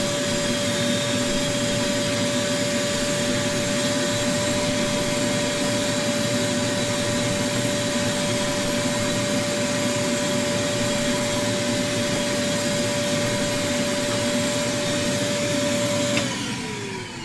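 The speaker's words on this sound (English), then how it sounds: "I need to vacuum the ground." A vacuum cleaner drones continuously at a steady pitch, close and loud, then winds down at the very end.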